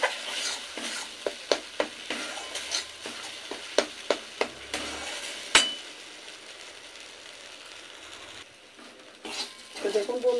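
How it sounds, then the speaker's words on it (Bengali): Masala spice paste for bitter gourd cooks in a wok, a spatula scraping and clacking against the metal in steady strokes over a soft sizzle, close and clear with faint background talk. "মিনিট দুয়েক ধরে আমি মশলাটা একটু ভালো করে কষিয়ে নেব"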